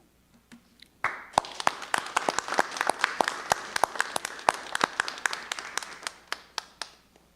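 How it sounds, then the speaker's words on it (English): A school board meeting audience claps steadily for about six seconds at moderate volume, with some individual claps standing out before it fades. "We applaud you."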